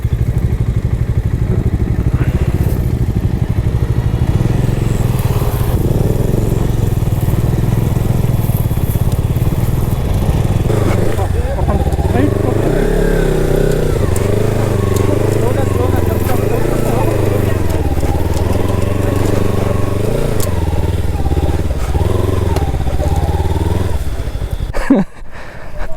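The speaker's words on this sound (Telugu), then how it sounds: "నా ఇంజన్ ఆన్లోనే ఉంది." A motorcycle engine idling and revving steadily on a rough road near a hidden sunrise spot outside Hyderabad, a loud, continuous mid-pitched drone that shifts in pitch midway and runs throughout.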